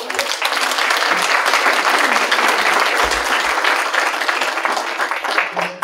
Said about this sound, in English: You should get a big round of applause.